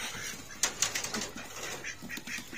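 Chickens are let out of their coop, giving a burst of flapping wings and soft clucking close by, fairly quiet, with scattered rustling afterward.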